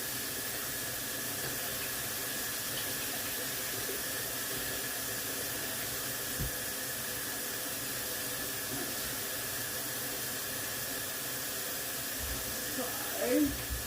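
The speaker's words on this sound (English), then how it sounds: "Get some warm water in the sink because it'll stick all over my hands." Warm water runs from a tap into a kitchen sink as a constant, even hiss throughout, with a couple of faint knocks and a brief clatter near the end.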